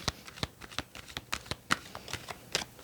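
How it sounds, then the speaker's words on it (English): A deck of tarot cards is shuffled by hand, a quick series of crisp riffling slaps and flicks at an uneven rhythm, close and fairly quiet. "Okay, good shuffle."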